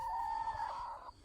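Hens in a chicken house give a faint, sustained clucking call that holds a steady tone for about a second, then a short second note, over a soft background hum.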